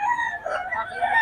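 Chickens clucking and crowing steadily at an outdoor market, several birds close by with a continuous layered chorus and no clear talk.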